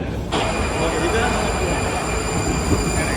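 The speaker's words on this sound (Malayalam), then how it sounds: "നമ്മുടെ ട്രെയിൻ ഇവിടെ വന്നു." A train pulls into a station in Prague, rumbling steadily close by with a high tonal whine overhead and clattering undertones; faint voices mix in.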